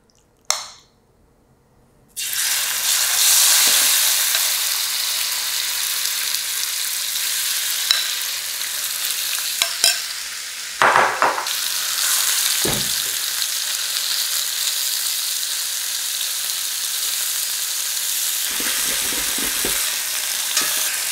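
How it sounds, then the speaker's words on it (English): Beef fries in batches in vegetable oil in a wok. A quiet moment gives way to a sudden loud, sustained sizzle when the meat goes in, with brief clinks and stirring scrapes along the way. "Add some vegetable oil into your wok and fry your beef in batches."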